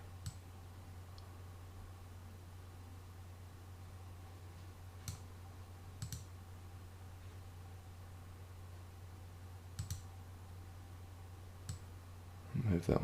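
Computer mouse clicking during 3D modelling work, a few sharp isolated clicks spaced irregularly over a steady low hum, fairly quiet and close.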